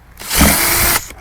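A power drill bores into a plastic chicken feeder container in one short, loud, close whir that spins up, holds steady for just under a second and then stops abruptly.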